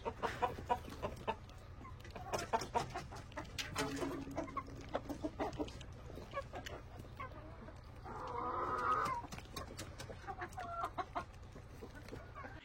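Farmyard chickens in a village cluck in scattered, repeated bursts, some nearer and louder, with a longer run of clucking near the end over a quiet background.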